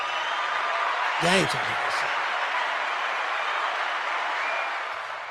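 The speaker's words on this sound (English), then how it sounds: "let's give everybody a round of applause" A round of applause for everybody fills the space as a steady, dense crowd clapping, with a voice cutting in briefly over it.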